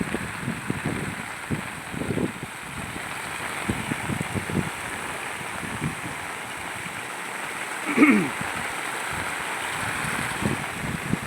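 Steady broadband rushing of fast-moving floodwater after heavy rain, constant and fairly loud throughout, with a brief sharper splash or knock near the end.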